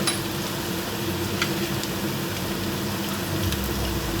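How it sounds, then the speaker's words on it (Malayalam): Pumpkin pieces salted and sautéed in a pan give a continuous soft sizzle, with occasional light scrapes and clinks of a stirring utensil close by. "ഇതൊന്ന് വഴറ്റിയെടുക്കാം. നല്ലതുപോലെ ഒന്ന് ഫ്രൈ ആക്കിയെടുക്കാം."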